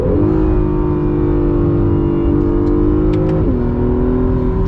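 An Acura NSX supercar accelerates hard along a winding canyon road, its engine droning loud and steady from inside the cabin, the pitch climbing and then dropping with each gear change, with no one talking.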